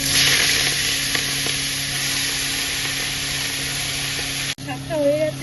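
Spinach dropped into hot oil with dried red chillies and five-spice sizzles loudly and steadily, a dense bright hiss that suddenly cuts and then resumes with some stirring clatter.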